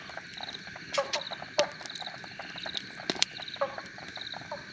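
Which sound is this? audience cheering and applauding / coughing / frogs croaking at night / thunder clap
frogs croaking at night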